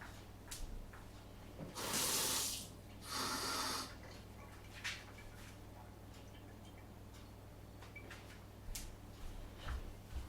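Tap water runs in two short loud bursts while filling a container for making pasta dough, fairly close, with quiet room noise and small clicks between and after.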